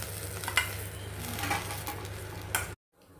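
Green chillies fry in a pan, giving a steady sizzle with intermittent scraping and clinks of stirring, then cutting off abruptly near the end.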